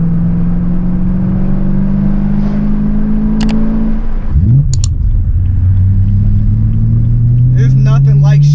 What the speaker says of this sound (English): I just missed the sound of this engine, the hum.